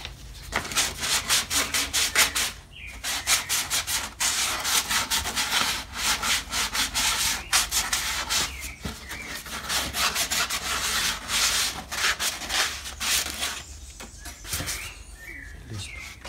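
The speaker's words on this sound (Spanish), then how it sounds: "pasamos una lijita aquí." Sandpaper rubs back and forth over the wood of a guitar being built by hand in a workshop. The gritty, rhythmic strokes are close and continuous, with a few brief pauses.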